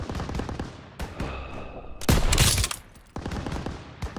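Machine gun fire in the Call of Duty WW2 campaign, fighting half-tracks and turrets in a town square: loud rapid bursts in short clusters, one heavy blast in the middle, broken by brief lulls.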